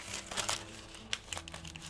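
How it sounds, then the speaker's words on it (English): Parchment paper folded in half in a home kitchen while preparing a New York cheesecake, giving soft crinkling and a few sharper crisp creases, close and fairly quiet. "you can just fold your parchment in half"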